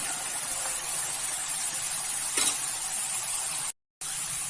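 Potato strips frying in bubbling oil give a steady, close hiss of sizzling froth, with a brief cut to silence near the end.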